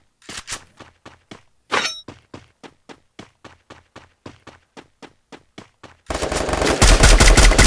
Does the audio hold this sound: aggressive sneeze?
no